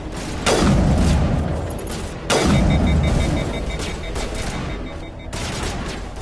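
Weapon fire in Mass Effect Legendary Edition: a few heavy blasts with long rumbling tails, the second about two seconds after the first, then a sustained loud roar of combat noise.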